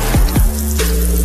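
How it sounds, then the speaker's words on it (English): Hot real mozzarella cheese melts over fresh pizza dough in a short sizzling effect: a bubbling, crackling hiss with two quick falling swoops, close and loud. "That's the sound of Hungry Howie's hot, real mozzarella cheese melting over a bed of dough made fresh today."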